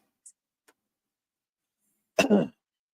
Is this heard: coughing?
yes